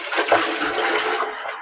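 A newly built toilet on a farm is flushed, giving a short, close gurgling rush of water that drains away within about a second and a half.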